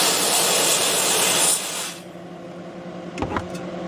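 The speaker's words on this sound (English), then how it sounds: "when I hit it with freeze spray" Freeze spray hisses loudly and steadily onto a Phase Linear 700 Series 2 amplifier circuit board for about a second and a half, then cuts off, leaving a faint background hum and a couple of small clicks.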